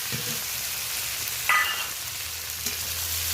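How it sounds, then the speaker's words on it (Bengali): Shrimp frying in a pan with softened onions, a steady broadband sizzle with a couple of brief clattering stirs, close and moderately loud, no talking. "বেশ কয়েকবার উল্টে পাল্টে আমি চিংড়ি মাছটা ভাজা ভাজা করে নেব"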